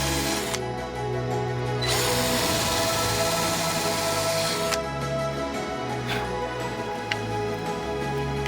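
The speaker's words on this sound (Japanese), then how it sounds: "ネジで留めていきます。" A power tool drives screws into the wood of a DIY camping spice box, a steady close whir with a hum and a few clicks, running through most of the clip with no speech.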